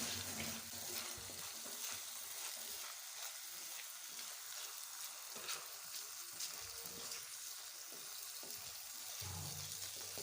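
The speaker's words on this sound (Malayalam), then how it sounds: "ഇനി നമുക്ക് നന്നായിട്ട് ഇളക്കി കൊടുക്കണം." Kerala-style fish curry being stirred in a frying pan, heard as a dense, continuous hiss of frying with occasional spoon scrapes, faint and steady throughout, with no one speaking.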